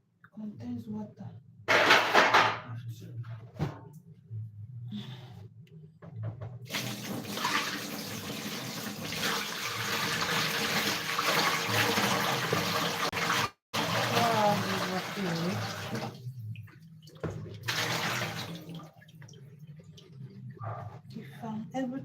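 Water gushes from a tap into a bathtub in a home, a loud, continuous rush broken by pauses, with someone talking and a dog audible nearby.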